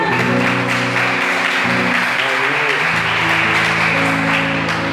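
A church congregation claps together in a broad, steady wash of applause during a worship service. Sustained keyboard chords play underneath.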